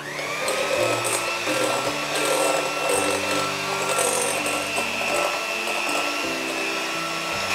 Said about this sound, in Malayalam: ഇങ്ങനെ ഇടയ്ക്ക് കുറേശ്ശെ ഇട്ടിട്ട് വീണ്ടും ബീറ്റ് ചെയ്യാം.